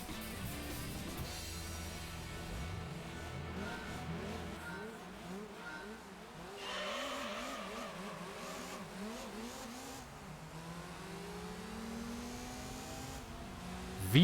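A Honda Integra Type R in the Gran Turismo 3 racing game, its engine revving hard through repeated rising gear sweeps with tire noise, steady and loud throughout, while a voice talks over it.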